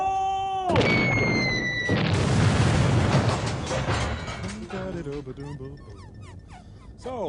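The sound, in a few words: explosion in a movie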